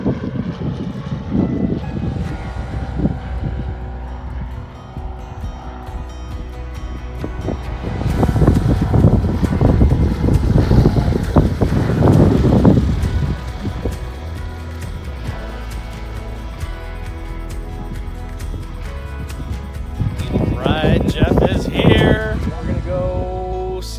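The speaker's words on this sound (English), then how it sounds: "But it is breezy, which might limit some of our options today." Breezy outdoor wind at a tabletop jump spot, a steady rumbling roar and microphone buffeting that swells loudest midway and again near the end, with voices talking over it.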